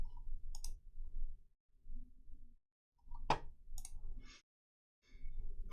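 A few crisp, isolated computer mouse clicks spaced seconds apart, close and clear over a low background rumble.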